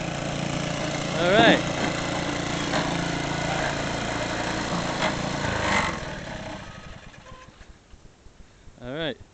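A David Bradley walk-behind tractor engine runs steadily at high revs up close, then cuts out about halfway through, leaving quieter background sounds; someone speaks briefly over the engine near the start and again at the end.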